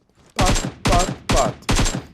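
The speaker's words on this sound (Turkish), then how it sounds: "Öldürmüş oldum seni de pompalayarak ama" Pump shotgun fire in the video game PUBG: four loud, booming blasts at a steady rhythm, each with a short ringing tail.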